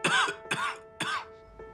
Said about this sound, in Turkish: Köhe köhe öksürüyorsun.